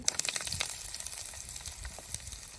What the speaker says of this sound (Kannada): ಈರುಳ್ಳಿ ಎಣ್ಣೆಯಲ್ಲಿ ಚಂದ ಮನೆ ಫ್ರೈ ಆಗಲಿ